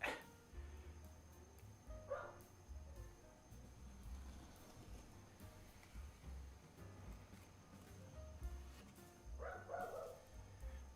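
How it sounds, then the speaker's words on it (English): Several dogs bark from a distance in a home workshop, short bursts at the start, around two seconds and near ten seconds, over steady low hum and background noise. "the dogs have found something to bark at."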